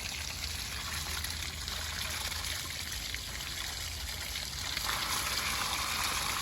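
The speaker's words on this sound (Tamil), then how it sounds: "இவ்வளோ தண்ணி வரும்." Water pours from a 2HP single-phase borewell motor pump, making a steady, continuous rushing gush that stays close and even throughout without any talk.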